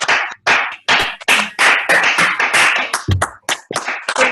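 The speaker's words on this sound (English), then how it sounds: "I'm going to unmute everyone and have a round of applause first, Will." Clapping from participants unmuted together in an online club meeting, heard as close, separate bursts with uneven rhythm and a brief voice partway through.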